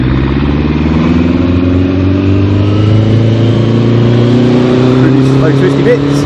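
A Suzuki GSX1400 motorcycle ridden in third gear through slow twisty roads, its engine droning steadily with gently rising pitch, loud and close under wind rush.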